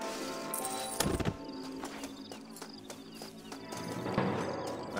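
Horses in the Western game Red Dead Redemption, with clip-clop hooves and a brief whinny amid game ambience and other effects, moderately loud throughout.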